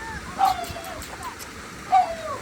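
A couple of dog barks or yips from a short distance, about a second and a half apart, over faint background noise.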